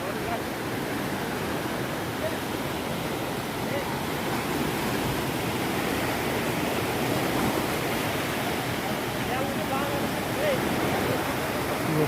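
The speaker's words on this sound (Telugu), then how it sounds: "ఆ లిఫ్ట్ నుండి గేట్లు తెరిస్తే నీళ్ళు ఎట్లా పోతున్నాయి" Water rushes through the opened gates of a lift irrigation canal, a steady, loud, broadband roar that continues unbroken from start to end.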